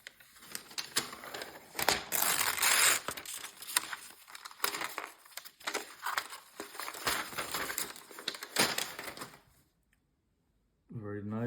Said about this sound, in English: So let's unwrap this.